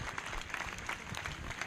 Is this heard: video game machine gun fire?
no